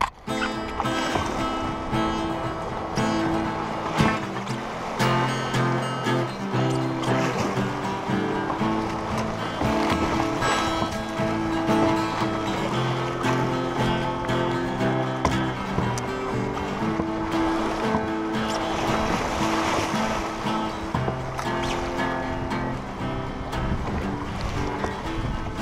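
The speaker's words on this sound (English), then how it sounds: "Riding the rapid straight out of Sand Hill River." A canoe runs a rapid out of Sand Hill River toward the Atlantic in Labrador, with continuous rushing, splashing water and hull noise, layered under music.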